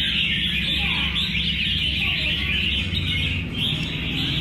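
A caged chích chòe (magpie-robin) songbird chirps loudly at close range in a high, steady stream of calls, over a low background rumble.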